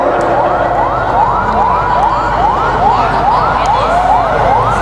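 A car alarm set off by a pressed remote wails loudly and continuously, with a rapid, evenly repeating rising sweep that resembles a siren, heard over steady background noise.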